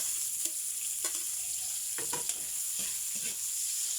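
Pork chop and shrimp sauté in a pan with a steady, close hiss of sizzling, punctuated by a few brief scraping stirs.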